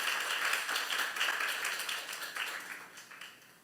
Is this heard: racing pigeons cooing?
no